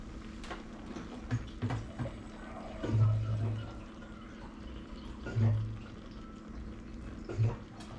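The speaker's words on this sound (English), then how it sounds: "Time to add some water to it." Water pours from a glass pint jelly jar into a pressure cooker holding red beans, a steady gurgling trickle with a few fuller splashing surges, close and moderately loud.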